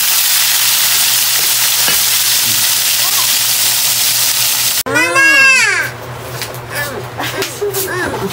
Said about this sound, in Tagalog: balik naman tayo dito sa ating pritong isda